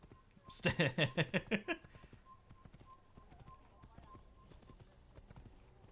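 Horse hooves clip-clop in a quick rhythmic burst of about eight loud steps in the Assassin's Creed video game, then give way to quieter game ambience.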